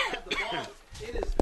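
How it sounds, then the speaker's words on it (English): A sports commentator gives a short, soft cough close to the microphone, with brief speech around it. "That's for that actually the little cough."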